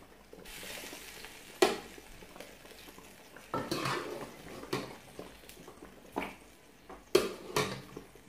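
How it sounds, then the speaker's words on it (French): Meat frying in a pan on a home kitchen stove, with a steady sizzle punctuated by sharp clanks and scrapes of a utensil stirring against the pan, close and moderately loud, with no speech. "Donc je peux mettre un peu la viande maintenant."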